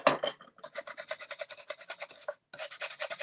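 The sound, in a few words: sanding pad smoothing a craft frame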